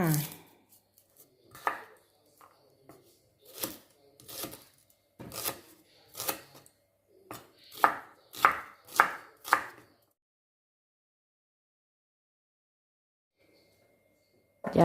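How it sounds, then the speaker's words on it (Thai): A knife chops shallots and garlic on a cutting board in irregular bursts, sharp close knocks coming in quick runs, then a long stretch of near silence. "หั่นหั่นแล้วก็ใส่ถาดอบเลย"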